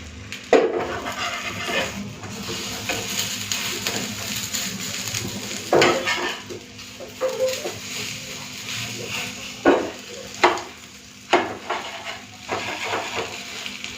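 An egg omelette fries in a pan with a steady close sizzle, broken by occasional spatula scrapes and clinks against the metal, while a voice talks faintly now and then.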